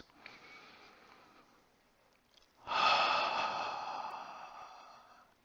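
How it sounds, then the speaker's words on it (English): Deep breathing during a restorative yoga session on a mat: a soft, long inhale followed by a fuller, louder exhale, close to the listener and with no other sound. "Let the release of the hands match the expansion of the ribs on your inhale. 2 more deep breaths."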